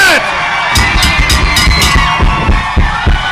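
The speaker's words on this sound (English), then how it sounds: "And the crowd goes wild." A crowd at a tag team wrestling show cheers wildly, a loud, close roar of whoops and yells that stays dense throughout, with sharp claps and shouts popping out above it.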